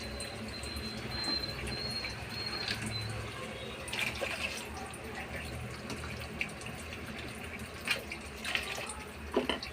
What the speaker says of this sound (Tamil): இப்போ வந்து கொஞ்சம் தேவையான அளவுக்கு தண்ணி ஊற்றிக்கலாம்.